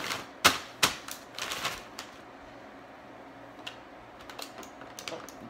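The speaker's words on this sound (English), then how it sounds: "Both corners click" Plastic corners of a tray or lid snapping into place on an appliance, a cluster of sharp, close clicks early on followed by a few fainter taps.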